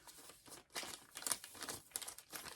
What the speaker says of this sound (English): I don't know how to do this without making the crinkly noises really